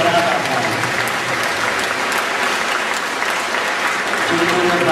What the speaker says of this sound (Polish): Jeszcze raz, proszę Państwa, proszę o gorące brawa.